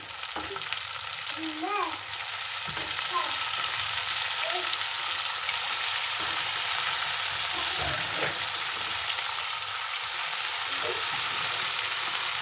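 Tomatoes tipped into onions already frying in a pan for a cauliflower tomato masala curry keep up a loud, continuous sizzle with a few faint stirring scrapes; nobody speaks.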